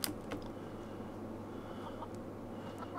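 Chicken clucking inside a colony-building video game, a low, muted cluck or two over a steady droning game ambience, faint and fairly distant with no talk.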